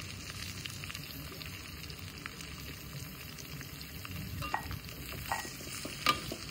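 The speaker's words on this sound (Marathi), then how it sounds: "हे चांगलं फ्राय करून घ्यायचं" Cauliflower and potato pieces frying in a pan with chilli powder, black spice mix and sesame powder, a steady soft sizzle with occasional scraping stirs and light pops, no voices.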